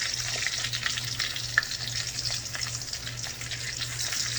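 Fish pan-frying in a pan, a steady close sizzle with a low hum beneath and a few small clicks.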